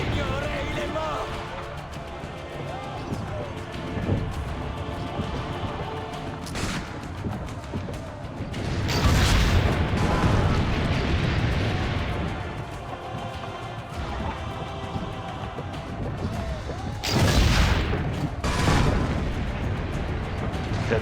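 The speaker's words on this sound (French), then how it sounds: "Il y a trop de canons en fait." Cannons fire in the video game Assassin's Creed Brotherhood during a villa siege. Dull booms and crashes break through, two heavier blasts stand out about eight seconds apart, and people talk over the battle noise.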